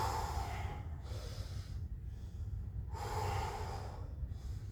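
Forceful exercise breathing during a physical fitness workout, with alternating sharp exhales and inhales in a steady rhythm, close and fairly quiet, with no talking.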